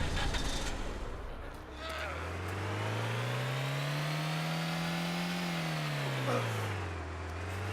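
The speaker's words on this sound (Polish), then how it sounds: "Jedziesz tym autem" A car engine in the video game DayZ revs up, its pitch rising, holding and then dropping as it drives, loud and steady throughout, with a brief burst of other noise at the start.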